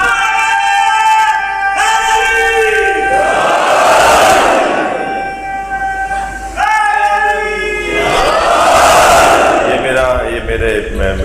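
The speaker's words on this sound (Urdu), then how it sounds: "تم نعرے لگوا رہے ہو" At a religious gathering, a lead voice calls out slogans and a large crowd roars back in unison twice, each call followed by a loud, swelling collective shout that fades.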